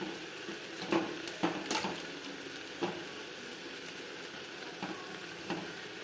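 Onions, chillies and salt fry quietly in a pan, a faint steady sizzle punctuated by several light scraping knocks from stirring.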